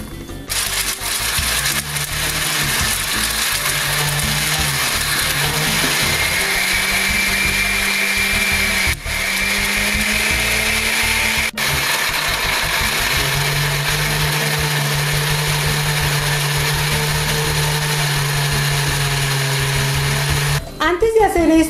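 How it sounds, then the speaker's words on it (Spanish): A blender grinding shelled peanuts roars steadily for about twenty seconds, its motor pitch shifting slightly as it grinds, loud and close, then cuts off at the end. "para que se le facilite a la licuadora moler"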